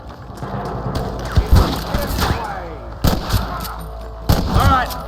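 Scattered gunshots in a Red Dead Redemption shootout against thieves at a camp, with deputies fighting, sharp cracks over a busy background of hooves and movement, with a few shouted voices mixed in.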